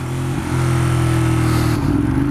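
A Ducati Monster 821 motorcycle engine revs steadily up close, a strong throbbing exhaust note that climbs in pitch toward the end.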